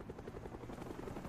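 A Cobra attack helicopter arriving in a video game, steady rapid rotor thumping at moderate loudness under low engine rumble, continuous and without voices.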